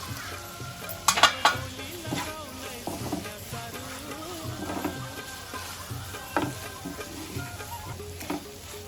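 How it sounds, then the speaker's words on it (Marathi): A pan of dry prawn fry with fresh coriander sizzles softly while it is stirred, with a few light scraping clicks from the utensil against the pan and no voice over it. "आता कोलंबीवर कोथिंबीर टाकू आणि कोथिंबीर मिक्स करून घेऊ"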